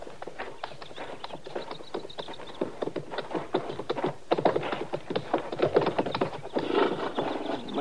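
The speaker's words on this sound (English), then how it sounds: "Chester, you can bring the horses out now" Several horses are led out in an Old West setting, hooves clip-clopping steadily and growing busier, with scuffing and shuffling around them.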